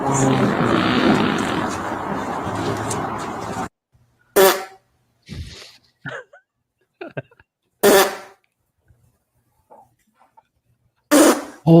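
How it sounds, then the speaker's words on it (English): A rabbit breaking wind, heard as a blaring, buzzy blast at the start, followed by short bursts of people reacting and talking. "Holy shit, rabbits fart like that?"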